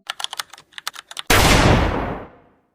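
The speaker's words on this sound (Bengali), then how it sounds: "হঠাৎ গুলির শব্দ" A single loud gunshot cracks out after a quick run of keyboard typing, its blast decaying over about a second and a half with no voices present.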